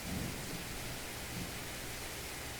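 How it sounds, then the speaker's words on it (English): Soft, steady rain hiss in the game The Letter, a continuous wash of falling water with a faint low rumble beneath, quiet and unbroken. "You have the rain going on"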